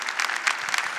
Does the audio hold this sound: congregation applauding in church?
yes